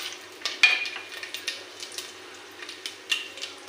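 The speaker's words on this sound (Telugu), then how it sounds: "కోడిగుడ్లు వేయించి పక్కన పెట్టుకున్న నూనెలో ఇప్పుడు తాలింపు వేస్తానండి" Spices tempering in hot oil left over from frying boiled eggs, a soft sizzle with light spoon stirs and scrapes against the pan, close and fairly quiet.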